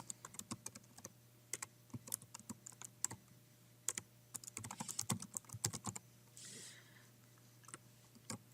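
A computer keyboard is used to type a comment into code. Crisp key clicks come in uneven bursts with short pauses, close and quiet, and a soft hiss is heard near the end.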